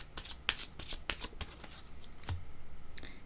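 Cards being drawn and handled in a card reading: sharp papery riffles and snaps in quick succession, then softer sliding and a final flick, close and fairly quiet.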